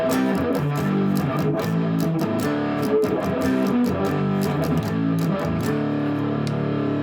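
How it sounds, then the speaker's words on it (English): Electric guitar played through heavy distortion on the neck pickup, warm and thick, with sustained chords and strummed notes ringing out steadily for several seconds. "you can hear what the neck pickup sounds like with distortion on"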